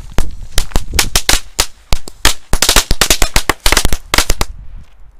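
A Lady Cracker firecracker strip laid loosely on the ground going off, a rapid irregular chain of sharp loud pops crackling for about five seconds before falling silent.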